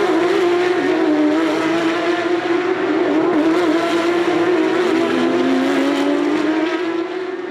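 Pack of Porsche GT3 Cup race cars at full throttle on the Long Beach street circuit, a loud continuous engine howl with shifting pitch as cars pass close, with no speech.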